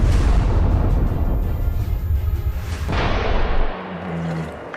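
Rocket launcher fire and explosions from Gaza war footage come as a loud, dense roaring blast that fills the first three seconds, then fade into a rumbling, distant aftermath.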